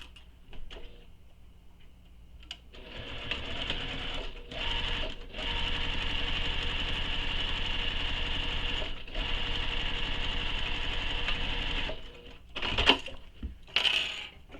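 Sewing machine stitching along the top straight edge of bag panels, a steady mechanical whir that starts after a few quiet seconds, runs continuously with brief pauses, then ends in a few short bursts and clicks.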